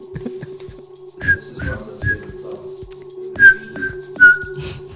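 Someone whistles along to background music, a few short clear whistled notes and slides over a soft steady musical drone, fairly close.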